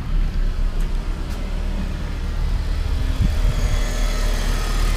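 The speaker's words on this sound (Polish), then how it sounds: "No i już chodzi na gazie." A BMW E39 engine running on LPG after starting, a steady low idle hum with a slight rumble that stays even and close for the whole stretch.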